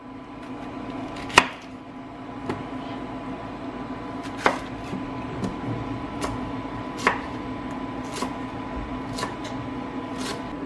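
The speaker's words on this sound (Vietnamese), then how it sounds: "Rồi tiếp theo hôm mình cũng sẽ xắt nó ra thành những miếng vừa ăn nha." A knife chopping food into bite-sized pieces, part of preparing a giant spicy Thai seafood hotpot. Sharp, isolated knife strikes come every second or two over a steady low background hum, with one louder chop near the start.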